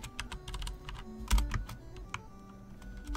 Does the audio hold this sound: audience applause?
no